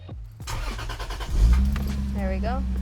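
A car engine cranks briefly and catches, then settles into a steady low idle close by, while a person talks over the running engine.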